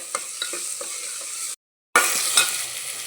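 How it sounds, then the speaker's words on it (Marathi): Moong and toor dal are stirred together in a pot for a sambar-rice dish, with a spoon scraping and tapping in a loose rhythm over a faint sizzle, cut by a brief silent gap midway. "यामध्ये सगळं छान असं मिक्स करून घ्यायचं आहे"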